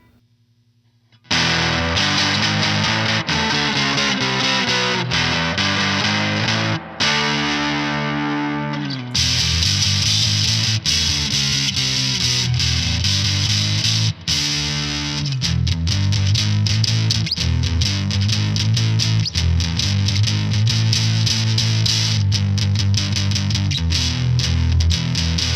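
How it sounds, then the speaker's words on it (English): An overdriven electric guitar runs through a BOSS EQ-200 pedal set to a mid-scooped V curve, giving a loud, dense riff of distorted chords and notes that plays continuously with a few short breaks. "do like the whole mid scoop thing, make a V right down the middle, and change the characteristic of your overdrive again"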